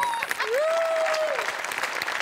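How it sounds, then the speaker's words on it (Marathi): Studio audience applause on a Marathi comedy show, a dense, steady burst of clapping lasting about two seconds, with a brief whistle-like tone rising through it. "एकदा गोस्वामींसाठी पण टाळ्या वाजल्या"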